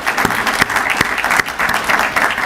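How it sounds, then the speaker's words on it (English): A university audience applauds steadily, a dense wash of many hands clapping fairly close, continuous for a couple of seconds with no talk over it. "I'd like to give you a round of applause for what you do."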